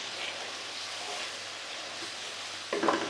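Tomato and masala sizzling as they fry in a pan, a steady hiss throughout with a brief louder burst near the end as water is added.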